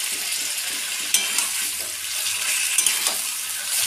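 Meat marinated with salt, turmeric and ground spice paste sizzles in a pan as it is fried down, a bright continuous crackle with a few clinks of a spoon against the pot, close and without talk.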